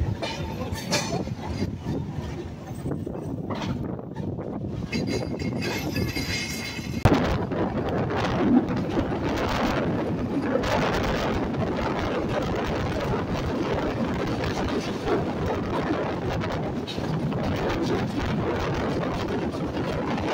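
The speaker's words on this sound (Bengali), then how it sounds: "লাইন ক্লিয়ার পাওয়ার পরে কিন্তু খুব আস্তে আস্তে আমাদের ট্রেনটি ব্রিজটি পার হচ্ছে" Passenger train slowly crossing a bridge, a loud steady rolling rumble with a sharp jolt partway through, continuing without voices.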